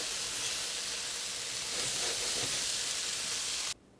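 Onion, garlic and ginger sizzle in a hot stir-fry pan for a chicken and vegetable dish: a steady, close hiss that swells slightly midway and then cuts off abruptly near the end.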